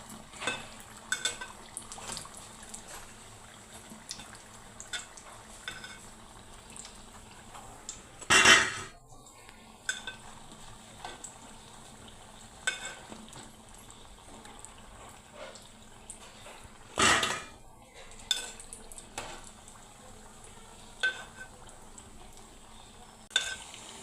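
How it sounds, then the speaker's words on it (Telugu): Raw banana bajji frying in hot oil, a soft continuous bubbling hiss broken by occasional stirring and clanks of a utensil against the pan, with a couple of louder scrapes. "బాగా ఎర్రగా వేపుకోవాలండి. ఇదిగోండి వేగిపోయాయి, ఇవి తీసేద్దాం ఇప్పుడు."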